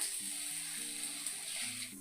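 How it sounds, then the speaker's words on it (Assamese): Water pours into a hot wok of boiled red lentils (masoor dal), raising a steady, continuous sizzle and hiss that lasts the whole moment at moderate loudness. "এয়া পানী দিছোঁ দেই"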